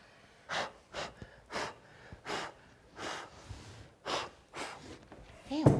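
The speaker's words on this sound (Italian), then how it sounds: "Non respirare perché soffio di là." Someone blows air across a freshly painted piece of furniture in a series of about nine short, evenly spaced puffs, close and breathy, with a small clatter at the end.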